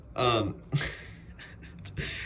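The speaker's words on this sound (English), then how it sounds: "excuse me, I just burped" A single short burp, fairly close, followed by a couple of quieter throat and breath sounds.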